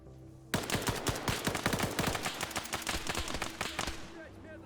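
Automatic gunfire erupts suddenly in the military video game Arma 3 during a radar site assault, with loud rapid bursts of shots that continue in uneven rattling volleys.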